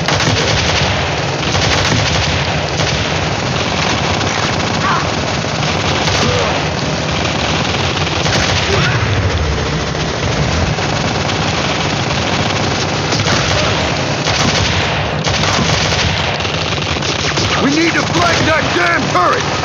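Sustained automatic gunfire from an emplaced turret machine gun in the mobile shooter Modern Combat 3, a dense continuous roar of rapid shots with booms, lasting throughout and loud, with voices shouting over it.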